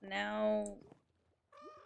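Cats meow, one drawn-out harmonic cry rising then falling, followed by a short pause and a second, shorter meow; close and clear.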